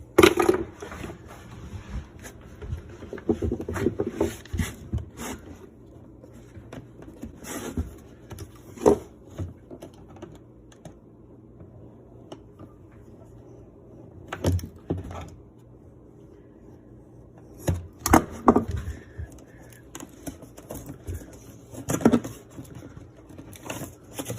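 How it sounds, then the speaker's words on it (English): Electrical wire for a range hookup is cut and its insulation stripped, giving sporadic sharp snips, clicks and scraping bursts separated by quiet gaps, close and fairly faint. "We're going to cut the wire to our mark. Then we got to strip the insulation."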